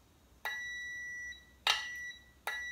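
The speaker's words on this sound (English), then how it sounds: "So when I'm on the actual heatsink, which is conductive, you can hear it beeping." A continuity tester beeps three times as its probe touches a conductive heatsink in a rewound microwave-transformer 13.8 V bench power supply, each beep a clear steady tone holding about a second with short gaps, close and alone.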